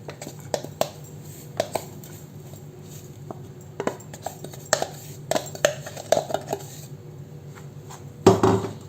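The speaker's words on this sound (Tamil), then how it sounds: "இப்போ இந்த நெய்யில் வந்து நம்ம ஆல்ரெடி அரைச்சி வச்சிருந்த மாவை வந்து கொட்டிக்கலாம்." Ground ragi flour is tipped into ghee in a pan, heard as scattered light clinks and taps of utensils against the pan, quiet and close, ending in a brief louder scrape.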